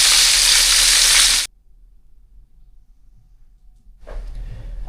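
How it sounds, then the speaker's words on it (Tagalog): Good-sized headless tilapia fry in hot oil with a loud, dense sizzle that cuts off abruptly, followed by near silence before a fainter crackle of frying returns. "nagpiprito na po sila dito ng mga good size po na tilapia na nahuli natin"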